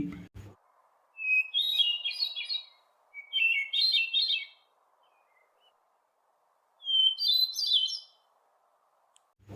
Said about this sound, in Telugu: హెల్మెట్ థ్రష్ అనే పక్షి విజిల్ సౌండ్ తర అందంగా పాడుతుంది